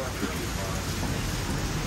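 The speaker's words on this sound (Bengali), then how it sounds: "জোরে বৃষ্টি পড়ছে" Dense, steady downpour of heavy rain in Bangkok, a constant hiss with no breaks across the short stretch.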